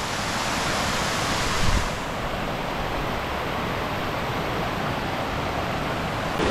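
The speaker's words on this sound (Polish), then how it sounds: "To ten wodospad kropelkowy." Steady, broad rushing of a small waterfall fills the whole clip, constant and fairly loud, with no voices.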